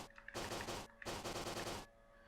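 Flamethrower weapon firing in the video game Kero Blaster: two dense, crackling roaring bursts of about 0.6 and 0.8 seconds, separated by a short gap, with a faint tonal hum underneath.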